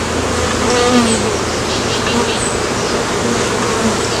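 Honey bees swarm over a frame from a single brood chamber hive, a steady dense buzzing hum close by that holds evenly throughout, with no talk.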